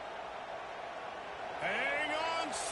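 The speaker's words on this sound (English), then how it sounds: "The Buckeye crowd alive on 3rd down." Ohio State Buckeye football crowd noise on third down against Texas A&M, a steady roar of the stadium that swells louder partway through, with voices and a rising whistle-like sweep on top.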